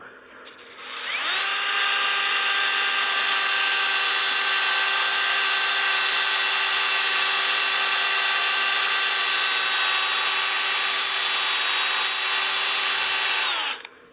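A wooden cake stand spins on a wood lathe under sandpaper, giving a loud, steady high whine that starts abruptly, holds unchanged for about twelve seconds, then winds down.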